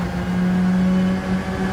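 Alfa Romeo 4C Gr.4 race car engine in Gran Turismo 7 on the Trial Mountain circuit, held at a steady high rev with a loud, continuous buzzing drone and slight wavering, close and alone.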